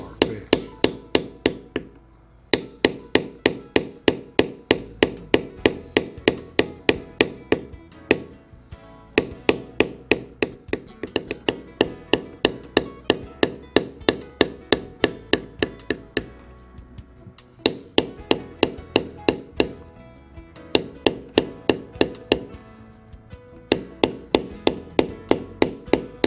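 Steady rapid tapping of a mallet striking a leather carving tool, likely a matting tool, on tooled leather for a big mouth bass carving, with crisp close thwacks in regular runs and brief pauses between bursts.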